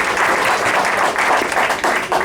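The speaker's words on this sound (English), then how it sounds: "Another round of applause for Michael Peroutka," At a Patriot Club of America meeting, an audience applauds a speaker with dense, continuous clapping from many people in a hall, loud and close, without pause.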